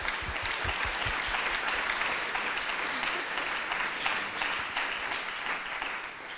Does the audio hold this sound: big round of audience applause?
yes